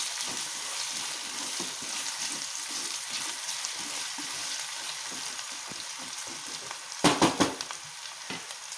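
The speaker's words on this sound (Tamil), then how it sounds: "உப்பு சேர்த்து வதக்கும் போது உருளைக்கிழங்கு வந்து சீக்கிரம் வதங்கிடும்." Potatoes and onion sautéing with salt in a pan for potato capsicum rice, a steady close sizzle with soft scraping stirs and a louder burst of stirring toward the end.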